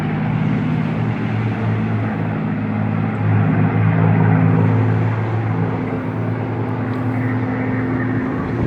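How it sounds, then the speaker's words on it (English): A Messerschmitt Bf 109 fighter flies past at the Eastbourne airshow, its engine a steady, loud droning roar with low harmonic bands that swell slightly mid-pass and hold throughout. "Here comes the MO-109 hunting for action."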